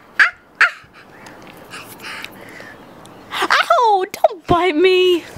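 A voice lets out short yips and barks in imitation of a dog, with a few sharp bursts early and stretched whiny calls near the end.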